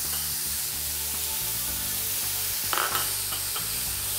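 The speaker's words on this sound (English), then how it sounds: "Now, once we get that to sizzle, we can turn it down a tiny bit so that we don't burn it." Bolognaise beef mince sizzling and frying in a pan while being stirred, a constant close broadband hiss with light scraping stir sounds and a brief louder burst near the end, with no talking.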